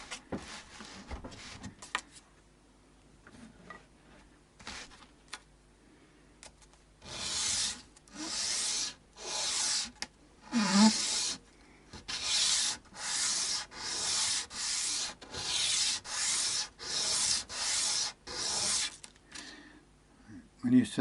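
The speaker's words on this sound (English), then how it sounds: "When you're sanding, you want to also just check that you're taking off an even amount" A guitar nut for an Ibanez PF100 Les Paul-style guitar is rubbed on sandpaper in a series of rhythmic, close, rasping back-and-forth strokes, with quieter pauses and some talk between bursts.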